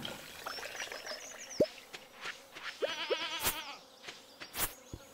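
Goat bleats from the farm animals in the video game Stardew Valley, a few short wavering calls mixed with brief clicks and chimes of game sound effects, no talking.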